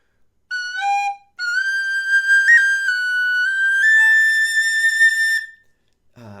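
Clear, pure tones of a high D tin whistle played slowly in a quiet room, a few short notes and then long sustained ones that drift gently in pitch, alone and fairly close, before fading to silence.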